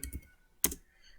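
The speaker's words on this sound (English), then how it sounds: "I will just go down around here, type some random stuff" A few quiet taps on a computer keyboard: a short cluster of keystrokes, a pause, then one sharper click, all close and faint.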